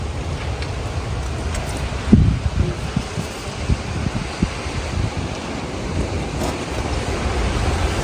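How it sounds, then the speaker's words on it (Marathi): Strong wind blows outdoors after a storm, making a steady, loud roar with gusty rumbles buffeting the microphone and a few sharper knocks. No one speaks. "मला इतका वारा सुटलेला आहे तुम्हाला दाखवते मी"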